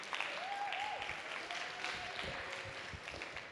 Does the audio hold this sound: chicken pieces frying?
no